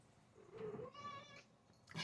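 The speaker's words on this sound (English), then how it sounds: "that's my cat Oscar" A single drawn-out cat meow, close and fairly quiet, with a rising then falling pitch, followed by a short second sound at the end.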